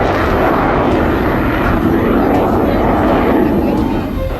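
A Rafale fighter jet's engine gives a loud, continuous broadband roar that holds steady for several seconds, close and powerful, with no clear voice over it.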